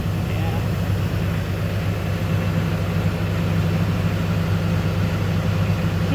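An International 7.3L IDI diesel engine in a truck left sitting in a field for decades idles after starting, a steady, loud, low rumbling drone throughout.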